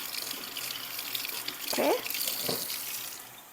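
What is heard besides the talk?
warm tap water filling a cup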